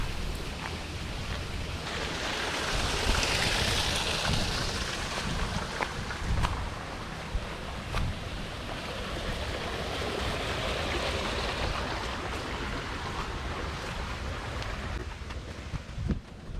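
Steady rushing water of a waterfall in a hotel garden on Ishigaki Island, a broad continuous hiss and splash that stays fairly constant throughout, with occasional faint clicks and no voices.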